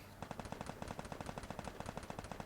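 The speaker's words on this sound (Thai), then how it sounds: "มันมีเสียงตุ้มตามตุ้มตามเลยนะ คือมีคนยิงกันอยู่นะ" Rapid bursts of automatic gunfire in the video game Free Fire crackle in a fast, steady rhythm, sounding distant and fairly faint, with a faint voice underneath.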